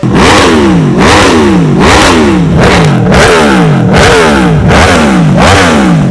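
An Aprilia RSV4 superbike engine revs hard in repeated sharp blips, roughly eight rising-and-falling surges in a steady rhythm, loud and close with no voices.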